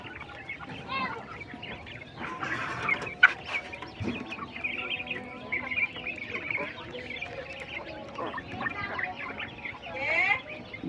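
European giant coturnix quails at a bird seller's farm give repeated clucking, chattering calls over steady background noise, with a few louder bursts and faint voices mixed in.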